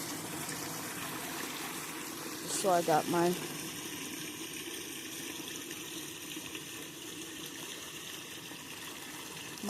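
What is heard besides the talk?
running water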